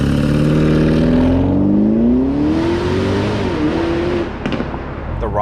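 A 2022 Porsche Cayenne Turbo GT launches hard with launch control, its engine note climbing steadily in pitch through a loud, sustained pull before a brief gear-change dip near the end, heard up close from inside the cabin.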